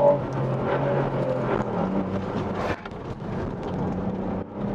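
Ford Puma ST sporty SUV driving through corners on a dry road, a steady engine and road roar heard from inside the cabin with a brief dip midway, fairly loud and without talk.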